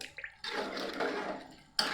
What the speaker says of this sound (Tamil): தண்ணி அதிகமாக விட்டுறேன்